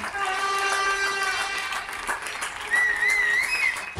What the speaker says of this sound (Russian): На этих кадрах соседи аплодируют поправившейся Микаэле Полонию из Барселоны